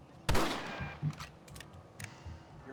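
Rifle shots in the western game Red Dead Redemption: one sharp, close crack followed by a few fainter, scattered reports, with little else around them.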